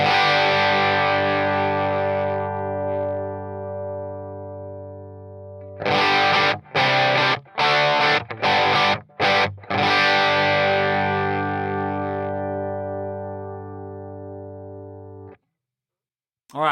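Smooth, high-gain rock tone from an electric guitar through a Quilter Toneblock 202 amp: a sustained ringing chord, then a burst of choppy palm-muted stabs and another long-held chord fading out, loud and with no talking.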